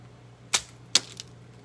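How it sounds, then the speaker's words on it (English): Scissors snipping through the plastic legs of Dollar Tree garden stakes, two sharp close cuts about half a second apart followed by a fainter third snip, with no talk. "And they'll cut with a pair of scissors"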